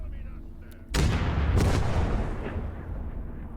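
Gunfire in the Gates of Hell video game, Finland versus USSR battle: a sudden loud burst of shooting and booming blasts that rumbles on in a dense barrage, with a voice talking over it.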